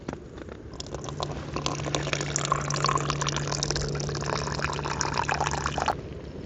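Water pours steadily into a container for drinking electrolytes at a camp shelter, a continuous close splashing and trickling gurgle lasting several seconds before stopping abruptly, with no talking.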